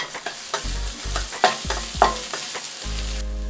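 Garlic and ginger stir-fry in hot shallot oil in a pan over high heat, with steady sizzling punctuated by repeated spatula scrapes and clanks, close and moderately loud without speech.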